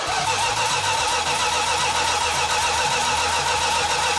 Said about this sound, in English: when we initially tried to start cranking the engine over